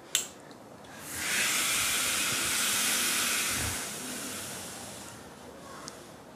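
A steam iron presses fabric around a curved seam, tipped onto its side. A small click precedes a steady, bright hiss of steam lasting a few seconds, which then eases into a softer hiss before a final tap.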